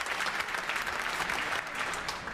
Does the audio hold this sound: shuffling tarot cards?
no